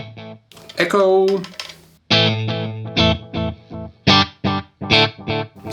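Electric guitar played through a Zoom 505 II multi-effects pedal set to echo, a few strummed chords and picked notes with short repeating delay tails, fairly loud and alone.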